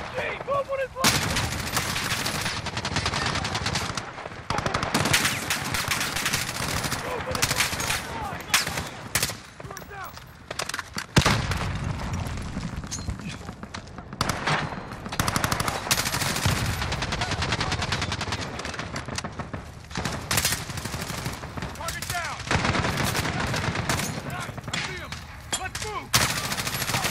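Machine gun fire in the Call of Duty: Modern Warfare campaign, with dense, continuous bursts of automatic gunfire and fusillades filling the scene and shouted voices in between.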